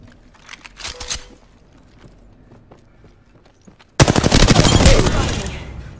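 Gunfire in Apex Legends with a few scattered distant shots early on, then a sudden loud, close burst of rapid automatic fire that rattles on steadily.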